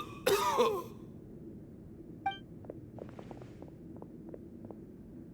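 A video game character from Genshin Impact coughs harshly in one short burst near the start, followed by a faint chime and soft scattered footsteps and clinks against a quiet background.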